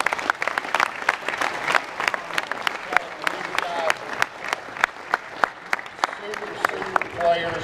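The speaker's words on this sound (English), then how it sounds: "give our coaches a round of applause." Applause from a crowd at a high school football banquet, a dense run of sharp claps for the coaches lasting several seconds with a few voices mixed in at moderate distance.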